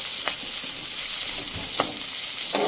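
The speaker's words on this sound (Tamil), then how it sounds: "வெங்காயம் வதங்கிட்ட ஓரளவுக்கு." Onions sauté in a pan for Dharmapuri-style fish curry, giving a close, continuous bright sizzle with a few short clinks of a utensil against the pan.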